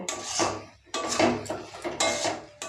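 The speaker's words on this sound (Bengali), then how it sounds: "খুন্তির সাহায্যে এগুলোকে আরও নেড়ে চেড়ে রেডি করে নেব।" Spatula scraping and knocking in a pan while stirring masoor lentils with lotus taro leaves, in repeated bursts of clattering metal contact with short pauses between.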